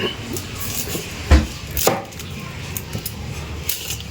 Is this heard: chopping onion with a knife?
yes